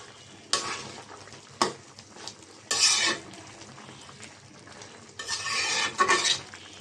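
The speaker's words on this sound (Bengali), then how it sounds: "একটু নাড়াচাড়া দিয়ে দিব।" A spoon stirs taro curry with small shrimp in a simmering pot, giving scraping and clattering bursts against soft bubbling, fairly close and moderately quiet, with no talking.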